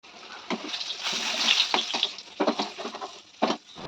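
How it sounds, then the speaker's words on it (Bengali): Boiled mung dal is tempered in hot oil, giving soft, crackling sizzle and sputter with several sharper splattering bursts as it is stirred. "তো এটা একটু মুগ ডাল, তো এটা ফোড়ন দিয়ে দিলাম"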